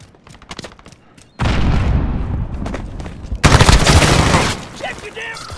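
Gunfire in the video game Call of Duty: Modern Warfare (2019): scattered shots at first, then loud sustained automatic bursts and booming volleys that fade near the end.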